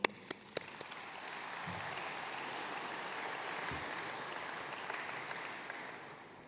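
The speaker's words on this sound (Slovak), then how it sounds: "ja vám dávam jeden veľký potlesk za to, že ste mi naozaj pomohli." Sustained audience applause in a congress hall at a ministerial address to municipal leaders, steady and dense across the whole stretch, with a few sharper claps at the start and no speech.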